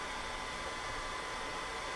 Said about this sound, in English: Saved you from the hair dryer.